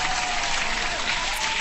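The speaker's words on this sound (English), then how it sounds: "So Raul, hand clap to you." A short burst of applause sound effect, many hands clapping in a dense, steady patter that holds at an even level for a moment without any voices.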